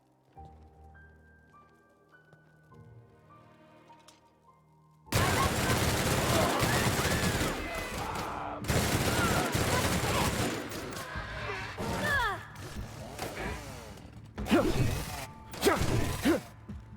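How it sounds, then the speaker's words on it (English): Machine gun fire in The Outer Worlds breaks out after a quiet lead-in with faint music, loud sustained bursts of rapid shots in several volleys with brief pauses between, close and dense. "Definitely a machine gun here."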